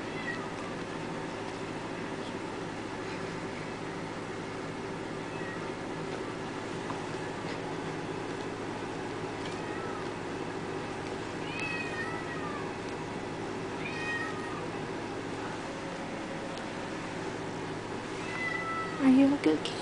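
A fluffy calico kitten gives a few faint, high meows over steady room hum, with a louder burst near the end.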